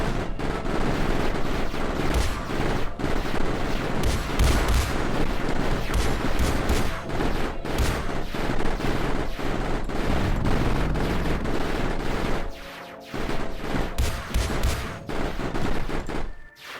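Turrets in the video game Mindustry fire nonstop, dense rapid volleys and heavy booms packed together and loud throughout, with one brief lull near the end before the barrage resumes.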